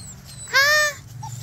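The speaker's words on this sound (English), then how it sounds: "Who you barking at?" A dog gives a single loud, close bark with a whiny, drawn-out tone lasting under half a second, against a quiet room hum.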